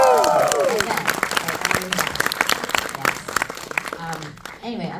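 An audience at an anime world premiere in Los Angeles bursts into applause and cheering, dense clapping with whoops and shouts, loud at first and then thinning out, with voices mixed in.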